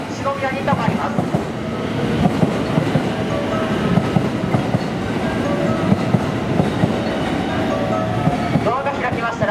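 A JR rapid train bound for Himeji pulls into Amagasaki station during evening rush, a loud continuous rumble of wheels and carriages close by, with a platform announcement running over it.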